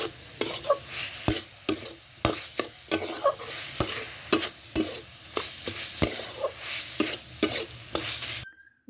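Raw banana and potato are stirred in a frying pan: a spatula scrapes and clatters in a regular rhythm, about one stroke a second, over a constant soft sizzle, close and clear with no talk.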